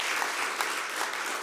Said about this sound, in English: one big applause again for this